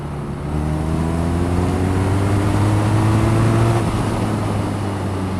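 A 2014 BMW R nineT motorcycle engine drones steadily on a test ride, a loud, close, humming tone that holds for a few seconds and then eases off slightly, with no talking.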